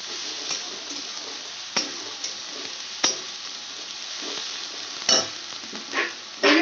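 Chili and garlic paste frying in a pan, a steady close sizzle broken by several stirring scrapes and clacks from a spoon.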